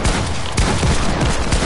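Gunfire in a multiplayer shooter game comes as a loud, dense burst of rapid shots and booming impacts, running for the whole stretch with no talking.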